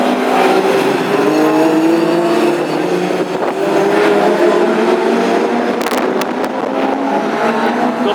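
Classic hot rod race cars in a heat at Northampton make a loud, continuous engine roar, with several engines droning and shifting pitch together and a few sharp clicks near the end.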